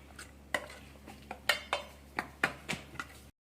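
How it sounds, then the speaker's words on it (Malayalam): A spoon clinks and scrapes against a pot while yogurt is stirred into a mango curry, about ten sharp metallic taps in an uneven rhythm, close and fairly quiet. "കുറച്ച് തൈര് ഒഴിച്ചു കൊടുക്കുക. എന്നിട്ട് നന്നായിട്ടൊന്ന് ഇളക്കി കൊടുക്കാം"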